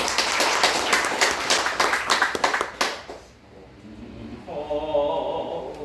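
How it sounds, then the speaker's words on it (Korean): A congregation claps during a Sunday church service, a dense burst of hand clapping that fades out after about three seconds, followed by someone speaking. "다시 한번 박수 주세요."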